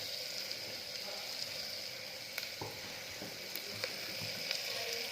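Garlic frying in hot oil for a Chinese dish gives a soft, continuous sizzle with a few faint clinks of stirring, no voices.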